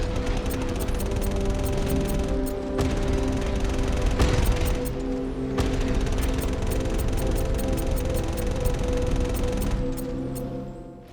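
Sustained rapid-fire weapon bursts in Star Citizen gameplay, long rattling streams of gunfire broken by brief pauses, loud and close with no talk over them.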